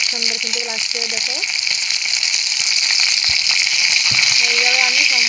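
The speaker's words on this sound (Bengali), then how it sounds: "এইভাবে আমি সম্পূর্ণ মাছ ভেজে নেব" Fish pieces frying in hot oil make a loud, continuous sizzling hiss close up, with faint tonal background sounds and brief muffled voices near the start and end.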